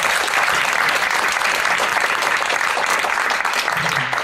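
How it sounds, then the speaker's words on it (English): An audience applauds after a professor's lecture, with dense, even clapping that holds steady throughout and fills the hall. "So please again a round of applause."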